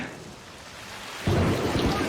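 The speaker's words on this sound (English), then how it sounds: "And then it started to rain" Steady rain hisses in a scene from the TV series Lost, episode 'Flashes Before Your Eyes', then a loud, close roll of thunder breaks in halfway through and rumbles to the end.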